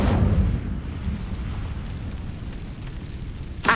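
Casting the Incendio fire spell in a wizard video game sets off a deep rumbling burst that fades into a low crackling roar and ends in a short sharp whoosh.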